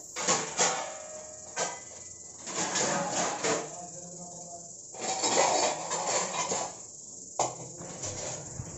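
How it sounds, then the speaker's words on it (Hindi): Kitchen utensils being stacked into a dish stand at home, giving intermittent close clinks, knocks and clattering bursts separated by short pauses. "तो मुझे लगा चलो फिर मैं बर्तनों को लगाना शुरू कर देती हूँ, बर्तनों को स्टैंड में जचा देती हूँ"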